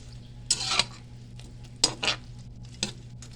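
A spoon scrapes and clatters through chicken and sauce in a pan, in three distinct bursts of stirring with gentle clinks, close by over a faint steady hum.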